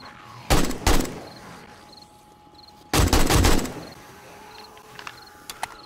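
Gunfire in the 7 Days to Die video game, shooting zombies through bars during a horde night, in two loud rapid bursts, a short one and then a longer one, followed by quieter clatter.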